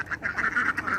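Domestic ducks quack repeatedly in a close, loud series of nasal calls, about seven bursts in quick succession.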